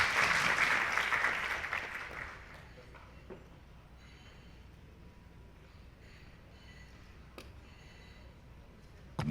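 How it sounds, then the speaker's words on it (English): Audience applause at a semiconductor supply chain conference, a loud burst of clapping for arriving panelists that fades over about two seconds, leaving a quiet room with faint scattered noises. "Please join me in a warm welcome of applause to welcome our distinguished panelists"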